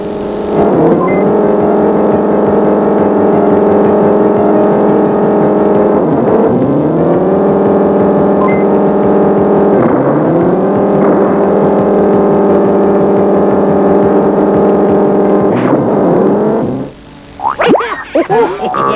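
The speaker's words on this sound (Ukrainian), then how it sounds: "повертаєш ключ, вмикаєш першу швидкість, другу, третю, четверту" A car engine drones loudly and climbs in pitch, then drops and climbs again as it shifts up through the gears, four rising sweeps before a final burst of revving, with no voice.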